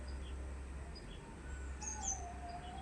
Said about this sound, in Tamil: குருவி சத்தம் அழகாக இருக்குல்ல.